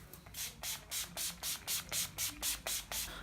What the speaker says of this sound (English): We're gonna hit ourselves with some setting spray.